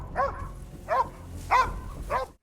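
Dogs in an episode of The Last of Us barking four times at an even, unhurried pace, fairly close and loud, with faint low background sound between barks.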